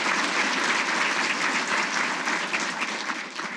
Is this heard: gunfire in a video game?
no